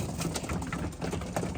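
Young racing pigeons and fancy rollers coo softly in a loft while feeding, a close, low burbling murmur of several birds.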